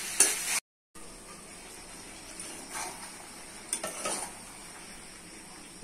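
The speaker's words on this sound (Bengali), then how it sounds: "দিয়ে দিচ্ছি আলু এঁচোড়। ভালো করে কষতে হবে, মশলা থেকে সব ফুটবে।" Potatoes and young jackfruit frying with spices in a pan, a soft steady sizzle broken by spoon-scraping stirs against the metal, close and fairly quiet, with a brief silent gap near the start.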